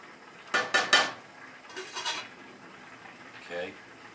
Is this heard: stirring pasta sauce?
yes